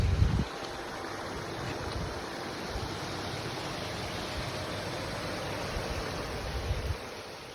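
Waterfall near Shahapur, Sarlambe village outside Mumbai, its water pouring in a steady, dense broadband rush that holds even throughout, with no voices.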